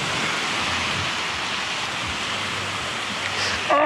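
Sea waves wash steadily at Playa la Audiencia, a continuous near hiss of surf with gentle swells, ending with a brief voice.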